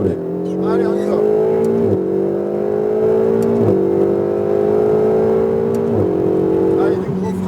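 A race car engine revs hard and climbs through the gears on the Mettet race track, pitch rising and dropping at each shift, loud and close throughout.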